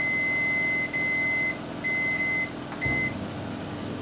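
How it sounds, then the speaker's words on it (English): A microwave oven hums steadily while heating egusi inside, with a high electronic tone sounding in three separate stretches and a short click near the end; no one speaks. "Put the egusi inside the microwave."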